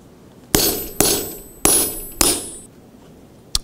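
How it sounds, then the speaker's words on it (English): Hardened steel punch struck with a hammer while punching a hole through steel plate for blacksmithed plate armor: four loud, ringing metallic blows spaced about half a second apart, each decaying slowly, then a faint tap, close and alone. "So there's a hardened steel punch."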